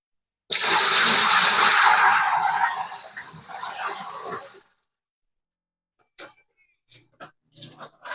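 Water gushes loudly into a washing machine tub under repair for a drain fault, a strong steady rush for about four seconds that tapers off, followed by silence and a few short knocks and clunks.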